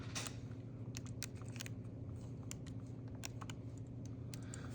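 Keys tapped in quick irregular bursts while numbers are entered into a calculator, crisp clicks over a steady low hum, close and fairly quiet with no talking.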